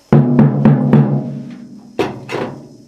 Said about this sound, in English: this drum has got a normal coated snare drum head on it, and sounds like this